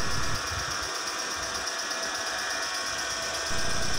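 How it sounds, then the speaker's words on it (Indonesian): A DC motor runs steadily on a half-controlled bridge rectifier circuit, with a faint incandescent lamp nearby, giving a continuous mechanical hum and buzz that dips briefly and returns. "Anda perhatikan motor DC dan lampu pijarnya ini mulai bekerja"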